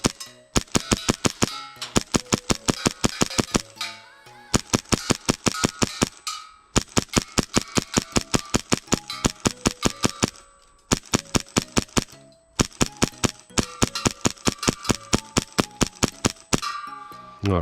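A customised, fully upgraded Hi-Capa airsoft pistol fires BBs that strike metal targets, producing sharp rapid metallic clangs and pings in fast strings of shots separated by brief pauses, loud and close.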